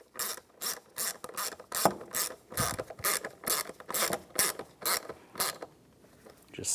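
A hand ratchet snugs down the plastic-mounted screws of a mass air flow sensor on a 2010-2016 Cadillac SRX, giving a steady series of short, close ratcheting clicks in even strokes, with no talk.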